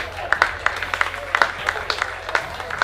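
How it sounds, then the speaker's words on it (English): Scattered clapping from teammates at a GDFL playoff football game as an injured player is carried off the field, light irregular claps over an outdoor hum, while a commentator talks. "Friends are clapping around here."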